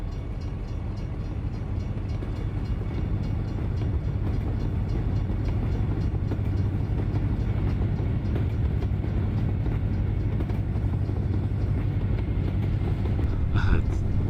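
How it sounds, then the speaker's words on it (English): A BNSF freight train rolling past a railroad crossing in American Truck Simulator, a continuous low rumble with rhythmic rail clatter that persists steadily throughout, with a brief sharper clank near the end. "We're gonna look for the train, and we just gotta wait for the train."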